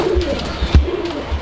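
Pigeons, including barless racers, cooing close by in a sale loft, with several low, soft throaty coos over a busy background.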